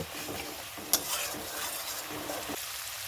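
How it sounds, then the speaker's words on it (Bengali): Spices fried and stirred in a pan for a tomato-capsicum chicken curry, a soft continuous sizzle with the spoon scraping the pan now and then and one sharp clink, fairly quiet and close. "এখন এই মশলাগুলোকে আমি ভালো মতো একটু কষিয়ে নেব"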